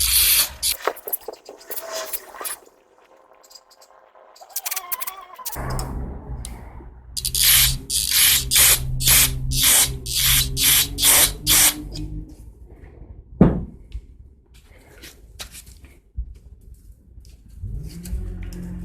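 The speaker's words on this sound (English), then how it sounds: "I'm going to take my carb cleaner and spray out all these passages." Bursts of pressurized hissing as carburetor cleaner is sprayed in short repeated blasts into the carburetor passages of a vintage Briggs & Stratton engine, interspersed with handling noises and a low background hum.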